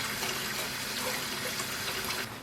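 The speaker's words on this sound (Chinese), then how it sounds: "接下来咱们把羊肚给它洗一下，把上边这些小毛给它揪了" Tap water runs steadily into a sink while sheep tripe is washed, a continuous close splashing stream that trails off slightly at the end, with no voices.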